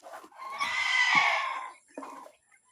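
A pet chick undergoing a course of Tilmoco medication lets out a loud, strained squawk lasting about a second, then a shorter cry follows close by after a brief pause.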